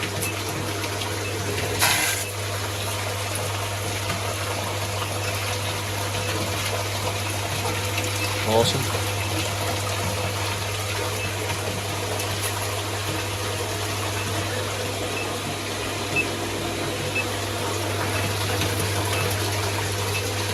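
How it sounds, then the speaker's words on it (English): A new brewhouse pump pushes water through pipes and a heat exchanger in a steady, continuous low hum with rushing flow, close and even. One brief knock and a single short spoken word occur. "That's a good pump."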